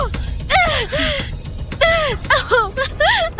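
A young son in an allergic reaction gasps and strains for air, a loud, close series of ragged, voiced wheezing gasps and groans coming in uneven bursts.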